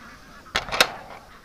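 Ducks on a farm give two quick, loud, nasal honks close by, rising over a quiet outdoor background.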